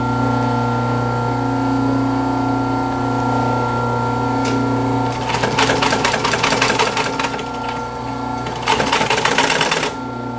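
A sewing machine stitches corner pleats into upholstery on a 1930s Art Deco chair, running in two rapid, rattling bursts close by over a steady background hum, with a quieter stretch before the first burst.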